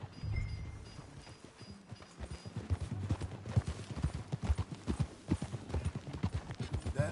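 Horse hooves clip-clop steadily in Red Dead Redemption 2 as a horse is ridden, the rhythmic footfalls close and clear over a low ambient game backdrop.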